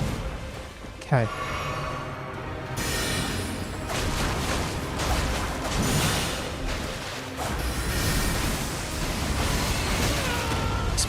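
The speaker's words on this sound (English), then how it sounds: "Explosions." Explosions go off in the video game Elden Ring, a sharp burst followed by a dense, roaring rumble of blasts and crashing that carries on throughout, loud and close, while a player talks over the top.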